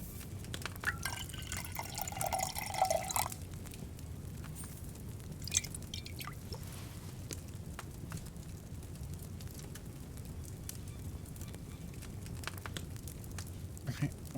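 Liquid pours and drips during potion brewing in Kingdom Come Deliverance II, a short splashy pour early on giving way to faint, irregular drips and bubbling over a low, steady background.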